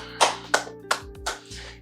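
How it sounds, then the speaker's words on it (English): A handful of sharp, separate claps from a single person's hands, about five in under two seconds, close and fairly loud with a steady, slightly uneven rhythm and no talking. "Round of applause."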